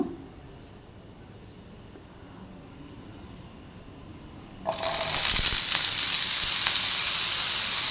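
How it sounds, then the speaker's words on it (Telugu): Potatoes drop into hot oil in a pan, and after a quiet start a loud, dense sizzle suddenly erupts and keeps going steadily at close range. "నేను మా బాబు కోసమని కొద్దిగా పొటాటో ఫ్రై చేస్తున్నాను"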